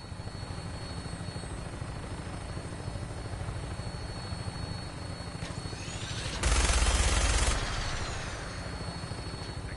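A helicopter flies in Fallout 4 with a continuous rotor and engine drone. A loud, harsh burst swells over it for about a second before the steady hum settles back.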